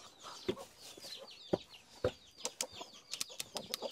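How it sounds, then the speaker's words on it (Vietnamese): Farmyard chickens kept at a rural family home cluck and squawk in short, sharp bursts, several birds close by and overlapping, with quick staccato calls crowding the final second and no voices. "Gà này là gà của nhà em à?"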